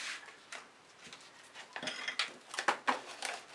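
Ceramic or plastic paint dish handled on a cluttered acrylic fluid-art work table, giving several light clinks and clatters that grow busier toward the end, close and fairly quiet with no speech.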